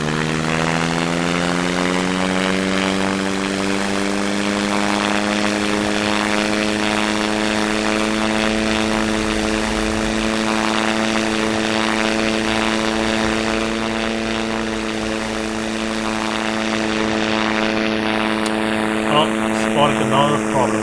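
Propeller plane in the SimplePlanes video game, a loud, steady engine drone with a strong tonal whine that slowly rises in pitch over about twenty seconds, running alone at constant volume.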